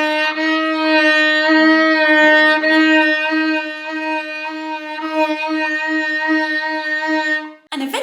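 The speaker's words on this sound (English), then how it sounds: "this is what the exercise sounds like at 100 beats per minute" A solo violin sustains a steady bowed note with slow, even pitch wavering, a vibrato exercise paced to a metronome at 100 beats per minute, played close and alone with a brief break near the end.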